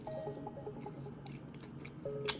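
Close, quiet chewing of a bacon, egg and cheese bagel sandwich with sizzling ranch sauce: soft, repeated crunchy bites and moist squishing with no talk.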